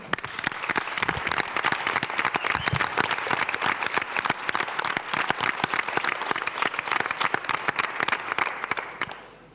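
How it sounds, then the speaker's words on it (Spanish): A hearty round of applause fills the room for a roundtable panel on political communication, with many hands clapping in a thick, sustained patter that fades out at the end. "Un fuerte aplauso."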